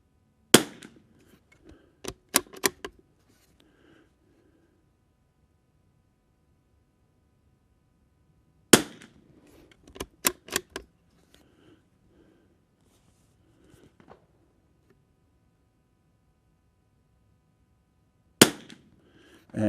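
Tikka T1X rifle firing Lapua Biathlon Extreme ammunition outdoors in high wind, sharp loud cracks in short clusters of several shots separated by long quiet pauses.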